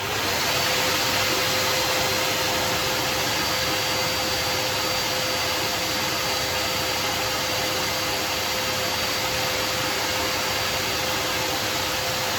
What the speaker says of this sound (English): The hairdryer is blowing on the ear.